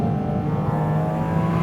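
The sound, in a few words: Porsche Cayman GT4 RS engine revving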